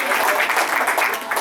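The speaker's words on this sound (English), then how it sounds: "So a big round of applause for all the efforts." Sustained, dense applause from an audience celebrating a company's email migration to its own domain, a steady wash of many hands clapping without a break.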